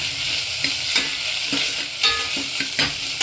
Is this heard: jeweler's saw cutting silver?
no